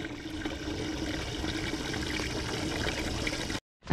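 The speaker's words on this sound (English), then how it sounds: "I'm constantly putting water in these fountains because the animals drink it" Water pouring steadily into garden fountains outdoors, a continuous close splashing trickle that runs for several seconds and then stops abruptly.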